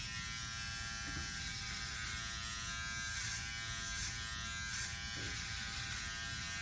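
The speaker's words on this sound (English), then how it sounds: "let's do a little trimming." A Norelco OneBlade electric trimmer running right up close as it trims a goatee, a loud, steady, unbroken buzz that holds at an even level throughout.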